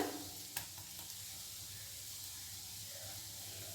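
Freshly grated ginger, about an inch, dropped into hot oil for a cauliflower paratha filling: a faint, steady sizzle and hiss with a brief crackle near the start, settling into a soft continuous fry.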